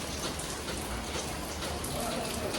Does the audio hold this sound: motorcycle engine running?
no